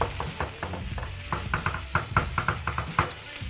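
Meatballs frying in a pan being stirred, quick rhythmic clinks and scrapes of a utensil against the pan over a close, steady sizzle, with no speech.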